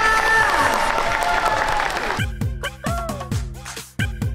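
Audience applause for a contest winner at a Thai fan event, a loud burst of clapping and cheering that fades after about two seconds into sparse, separate claps.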